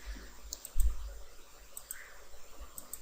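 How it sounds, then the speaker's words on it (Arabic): A computer mouse clicks to start a PowerPoint 2010 slideshow, giving a single faint click-like transient against a quiet room hum, with no speech. "لو فتحت سلايد شو انا هعمل كليك عشان يبتدي"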